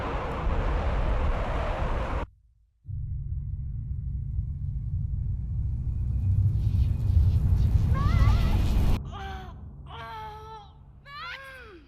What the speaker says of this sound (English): What's that noise? What do you think it is? It's a train.